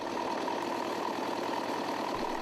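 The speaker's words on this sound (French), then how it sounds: "À l'aide de son tracteur, il doit éliminer mécaniquement les fougères devenues trop envahissantes." A tractor engine runs steadily at a constant rumble, used for mechanically clearing overgrown ferns, close and unbroken throughout with no speech.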